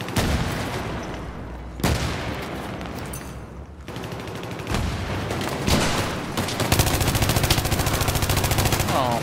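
Battlefield 3 gunfire in Rush mode on Operation Metro: dense, loud automatic bursts and single shots, with booming impacts and a rapid machine-gun stream near the end, under occasional shouted talk.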